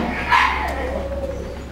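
Dogs in shelter dog runs give a short bark burst early on, then the kennel room fills with a steady noisy din of echoing background sound.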